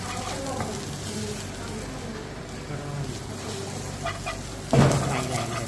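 Rice noodles being stir-fried with a spatula for mee kati: steady sizzling with scraping and clanking of the spatula against the pan, plus one louder clatter near the end, continuing under the cook's voice.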